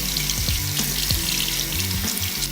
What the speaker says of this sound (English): And you just wait for the water to run clear